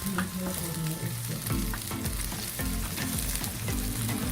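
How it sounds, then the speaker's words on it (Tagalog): Onion and garlic sizzle loudly in oil in a Kyowa multi-cooker on high heat, with steady frying crackle and a few stirring scrapes. "nagisa na tayo guys ng ating sibuyas at bawang. Ilagay ko siya sa pinaka-heat para madaling maluto"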